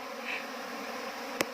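A newly settled swarm of Asian honey bees (Apis cerana indica) at a home theater gives a faint, steady buzzing drone, with one brief sharp click near the end.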